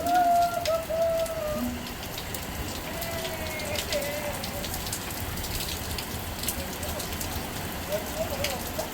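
Steady rain falls on surfaces at a home, a continuous soft patter with occasional chirps and brief whistling tones early on.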